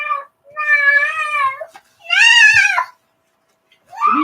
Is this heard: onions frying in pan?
no